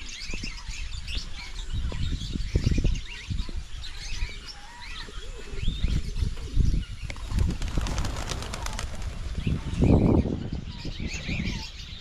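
Flock of pigeons released outdoors, with wings flapping in bursts as they take off and circle, mixed with chirps and coos and a loud flurry of wingbeats near the end.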